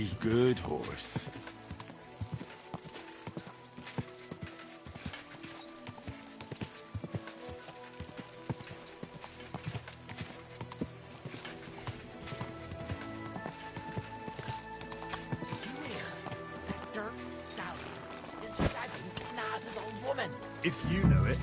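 Horse hooves clip-clopping in Kingdom Come: Deliverance 2, a steady run of hoofbeats with clinking tack and a whinny, set among game music and ambient sound, with voices talking over it.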